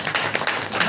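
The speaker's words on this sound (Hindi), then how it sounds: "ताली बजा करके परमेश्वर" A church congregation claps hands in quick rhythmic unison during a Saturday power meeting, several sharp beats within a second, close and fairly loud.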